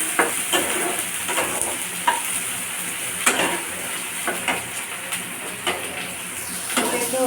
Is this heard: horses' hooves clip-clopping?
no